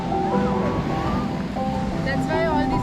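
Ocean surf breaking on the beach at Udupi, Karnataka, a steady loud roar of waves with wind buffeting the microphone throughout.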